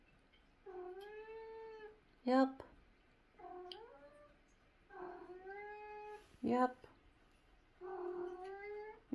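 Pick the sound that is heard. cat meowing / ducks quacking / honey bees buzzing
cat meowing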